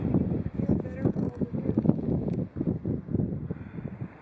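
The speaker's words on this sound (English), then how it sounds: "The wind is incredible today. As you can hear, big gust" Strong wind gusts buffet the microphone on a desert wash near Cassidy Arch Trail in Capitol Reef, a dense continuous low roar with surging bursts throughout.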